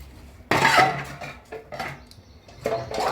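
Dishes and pots being washed by hand, with close, loud clattering and scraping bursts of metal and crockery between quieter scrubbing moments.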